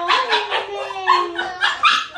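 A female dog barks and yips excitedly in a rapid, close, loud string of bright barks with whiny rises, with a voice talking alongside.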